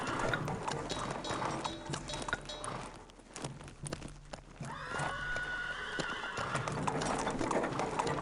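Horses in a video game neigh and whinny while hooves clip-clop steadily, with a few scattered clatters and a longer whinny standing out partway through.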